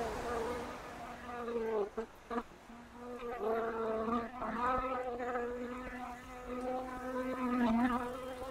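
Bees buzz around four rooftop beehives on a luxury department store in central London, a close, continuous droning hum that rises and falls as insects pass near, with faint city ambience behind.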